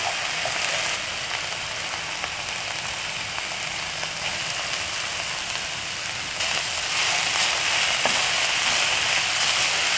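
Grated coconut frying with a fragrant Indonesian spice paste for urap, a steady close sizzle and hiss that runs unbroken for the whole stretch, swelling slightly louder toward the end, with no talking.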